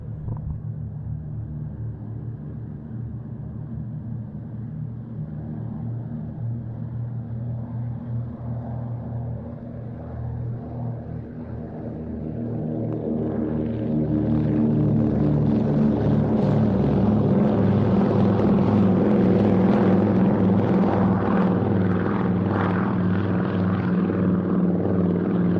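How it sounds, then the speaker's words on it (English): Twin Pratt & Whitney Twin Wasp radial engines of 1200 horsepower each power up on a Consolidated PBY-5A Catalina for takeoff at an air show, a steady droning rumble that swells markedly louder midway as the roll begins. "Powering up the two Pratt & Whitney twin Wasp radial engines of 1200 horsepower each now"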